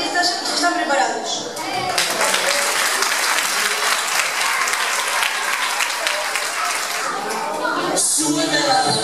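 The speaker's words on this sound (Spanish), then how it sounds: "Aplaudidle a estes artistas que están preparados." An audience at a school end-of-year festival applauding dancers: a dense, sustained wash of clapping that swells and holds for several seconds, with a voice briefly audible over it.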